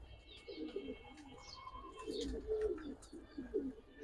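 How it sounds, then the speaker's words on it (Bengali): Silver high-flyer pigeons cooing softly in a loft, low repeated coos with faint chirps from other birds, quiet and fairly distant with no voices. "উঠতি লাইনের সিলভার কবুতর"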